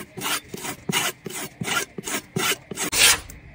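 A knife edge drawn repeatedly through the ceramic slot of a pull-through sharpener, making about seven loud, close, rasping strokes in an even rhythm with short gaps between them.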